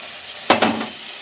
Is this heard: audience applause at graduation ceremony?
no